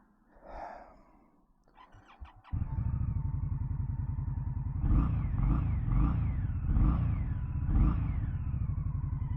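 A 2024 Indian Scout Bobber Sixty motorcycle engine cranks and fires up, then settles into a loud, throbbing idle with a few revs rising and falling.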